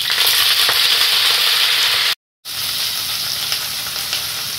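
Washed drumstick leaves land in a hot tempering and sizzle loudly and steadily up close, with one brief gap partway through.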